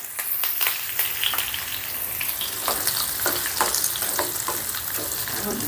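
Dried red chillies, garlic cloves and curry leaves crackle and sizzle in hot oil for a pickle tempering, a steady close frying hiss with scattered pops and stirring scrapes throughout, no voices.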